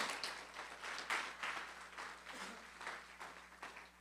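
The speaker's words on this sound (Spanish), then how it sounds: "Dale un fuerte aplauso al Señor Jesús." A church congregation applauds during a Spanish-language sermon, a soft, distant patter of many hands clapping steadily for a few seconds with no talk over it.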